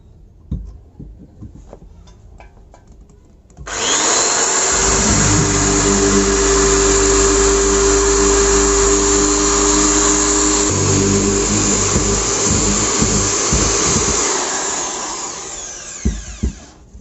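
Power drill boring a hole into a broken bolt at a workbench, a loud steady whine that starts suddenly, runs continuously with a brief dip partway through, then winds down, with faint clanks before and after.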